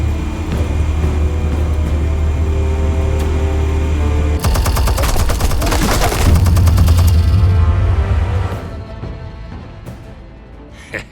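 Explosives detonating in the TellTale Batman game: a dense, rapid crackle of blasts erupts over a steady low drone, rages for a few seconds, then dies away into quieter rumble.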